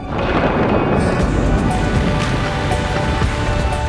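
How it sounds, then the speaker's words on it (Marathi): Steady heavy rain pours down, a dense, continuous hiss of drops on surfaces with no pauses and no voices. "पाऊस सुरू झाला"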